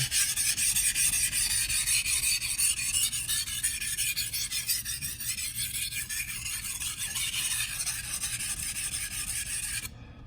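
Steady, close rasping strokes of a knife blade being sharpened along its edge to refine the profile, a continuous gritty scraping that runs unbroken for about ten seconds and then stops abruptly.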